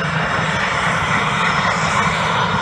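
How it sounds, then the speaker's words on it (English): F-86 Sabre jet taxiing along the runway at an airshow, a loud steady engine roar and whine, continuous and close, with no talk over it. "Traveller taxiing the Sabre back up the runway as the F-18 is getting into position"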